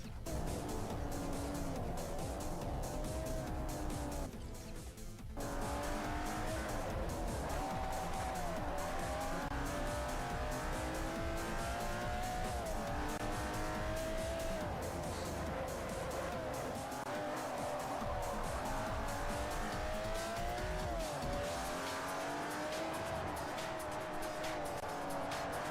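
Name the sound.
Ferrari race car driving and skidding in Forza Motorsport 4 video game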